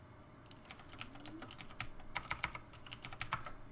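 Rapid typing on a computer keyboard, quick close key clicks in uneven bursts with a few louder keystrokes, no talk.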